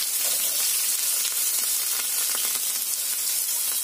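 Onion, mustard seeds and curry leaves sizzle hard in hot oil in a pan for a puttu masala, giving a dense, continuous hiss and crackle that stays steady and close.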